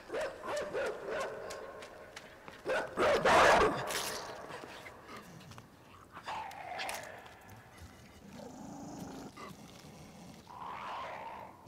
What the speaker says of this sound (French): Il est encore là ce chien?